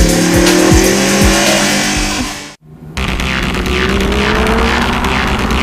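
A Lamborghini Gallardo roaring around a race circuit, engine loud and close with rising revs and tire squeal, cutting out briefly for a moment before the engine noise returns at full strength.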